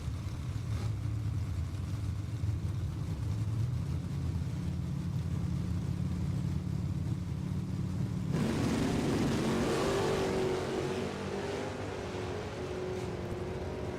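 Drag race cars launching at Kil-Kare Dragway during a bracket race: a steady engine drone builds, then a loud roaring burst of acceleration near the midpoint that holds and slowly fades as the cars pull away.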